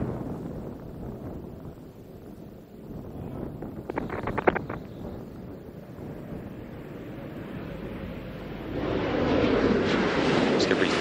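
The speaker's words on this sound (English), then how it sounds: "Space Shuttle Discovery now on final approach to the Kennedy Space Center." Space Shuttle Discovery on final approach to land at Kennedy Space Center, heard as a steady distant roar and wind-like rush that swells louder toward the end.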